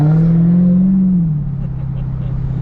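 A Dodge Hellcat on factory Pirelli tires gives a short, loud rev, a rising engine tone that holds for about a second, then settles back to a steady low idle, with a voice speaking over it.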